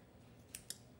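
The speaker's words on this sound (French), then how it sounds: "Avec les petits ciseaux à broder, je vais venir couper" Small embroidery scissors snip through threads folded in two with two sharp, crisp cuts in quick succession, close and quiet against a soft background hiss.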